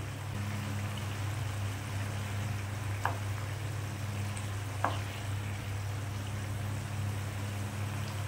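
Papaya and chickpea dal curry gravy simmers and reduces in a pan with a quiet, steady bubbling hiss over a low hum, broken by two faint clicks.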